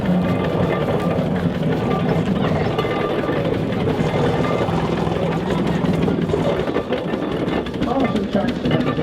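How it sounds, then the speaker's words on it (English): A 1913 steam traction engine runs at a rally, giving a loud continuous rumbling chug with mechanical clatter and hiss that holds steady throughout, close by. "Traction engine"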